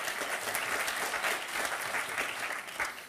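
Enthusiastic audience applause fills a conference hall as two speakers are welcomed at a travel market session on India, a continuous, full crowd clapping throughout.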